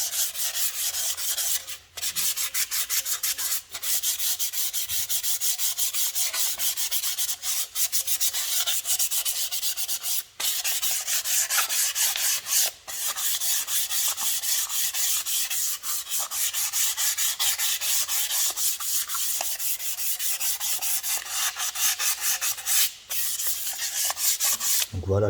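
Steady, continuous rubbing of rust from an Akrapovic motorcycle exhaust, a dense abrasive scrubbing that runs almost unbroken for the whole stretch with only brief pauses, close and fairly loud with no talking.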